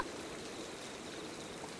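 Rain falling during a storm in an animated story, a soft, steady wash of patter that stays even from start to finish, with no talk.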